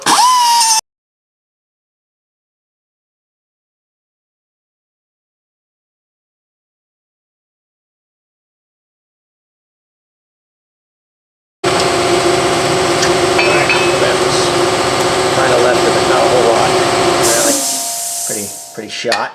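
A cutoff wheel slices through the rear brake dust shield on a 2005 Chevrolet Suburban 1500 4x4, heard as a loud, steady high-pitched grinding that starts after a long silence and runs for several seconds before winding down.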